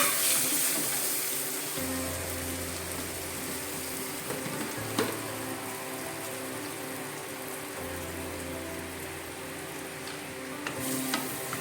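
A small cube of butter sizzles in a pan for egg butter masala, a constant frying crackle with a few brief clinks and stirring knocks along the way and no voices.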